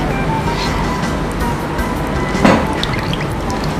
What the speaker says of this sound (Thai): ก็จะล้างเท้าล้างมือก่อน